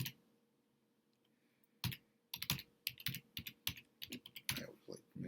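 Typing on a computer keyboard while setting up a Moodle VPS: after a quiet start, a close run of irregular, crisp key clicks and clacks in short bursts, with no talk.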